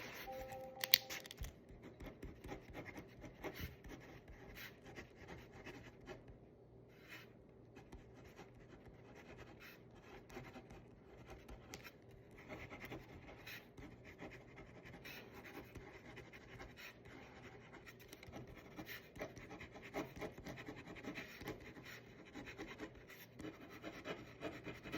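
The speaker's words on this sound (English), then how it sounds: "let me write this down" A pen writing on paper gives a faint, steady scratching and rubbing that runs through the whole stretch, with no talking.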